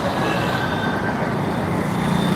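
Steady roadway rumble of passing cars and heavier vehicles, continuous and fairly loud, with no one talking.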